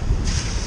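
Cold wind blowing on a beach during metal detecting, a steady broadband rush with gusty low rumble close to the microphone, no voices.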